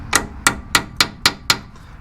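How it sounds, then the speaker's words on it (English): Hammer blows drive a 14 mm socket onto a wheel hub bearing part during a hub bearing replacement, six sharp metallic strikes at an even, steady rhythm, close and loud. "I'm hammering a 14 millimeter socket on it."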